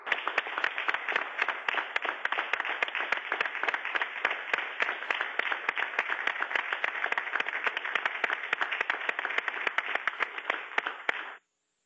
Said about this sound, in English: I think I heard one or two people clapping there.